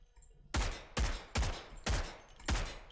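Five heavy rifle shots ring out at a firing range in the Delta Force Hawk Ops video game, spaced evenly and loud, each with a booming tail.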